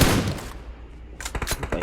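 Gunfire in the PUBG battle royale game, with a dense burst of shots at the start, a brief lull, then another rapid volley of close, sharp reports.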